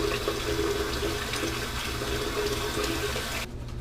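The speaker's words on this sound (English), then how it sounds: "You'll just want to rinse off your face really well, get it wet" A bathroom faucet runs hard into a sink as a face is rinsed during a first shave, a loud continuous splashing rush that cuts off abruptly just before the end; no one speaks.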